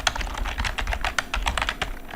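Rapid, irregular clicks of keys being typed on a computer keyboard, close and clear, with short bursts and brief pauses, no speech.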